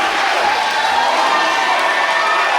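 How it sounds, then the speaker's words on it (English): A steel cage wrestling arena crowd cheers loudly and continuously, a dense roaring wall of voices filling the space without pause. "Listen to this crowd."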